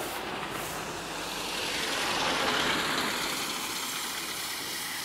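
A GAZelle minibus serving as a village school bus, its engine running steadily at a distance as it turns around, a broad, rumbling drone that swells slightly midway and then eases, with no talk.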